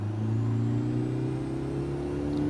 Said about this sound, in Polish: Ma o wiele ciekawszy za to dźwięk silnika niż tamte.